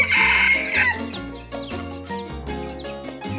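Chickens of a new breed cluck close by in a loud, busy flock, while a rooster crows a drawn-out call near the start.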